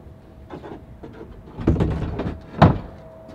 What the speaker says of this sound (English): now we're gonna slide them into the back of the truck